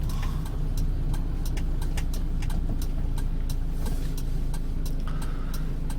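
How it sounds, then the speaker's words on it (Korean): A Kia Bongo 3 1.2-ton refrigerated box truck with 246,000 km and a six-speed transmission runs steadily, its engine a continuous low drone heard from inside, with faint clicks over it and no talking. "미션도 6단에다가 부드럽고 엔진도 굉장히 경쾌하더라고요."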